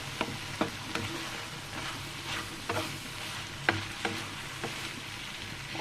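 Taro stolons are sautéed with dried shrimp over low heat. A gentle continuous sizzle runs throughout, with light intermittent spatula taps and scrapes against the pan. No one speaks.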